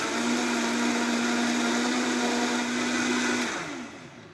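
A countertop blender whirls a strawberry hibiscus tea drink with vodka, a loud, steady motor whine and churning that runs for about three and a half seconds and then spins down.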